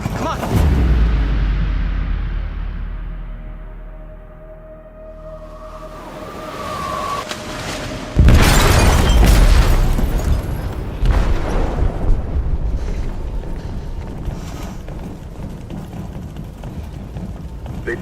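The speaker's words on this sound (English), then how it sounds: "They detonated an explosive in the hold." An explosive detonated in a ship's hold in the video game Detroit: Become Human: a low rumble fades, then a sudden loud blast hits midway and gives way to a long, roaring, rumbling aftermath.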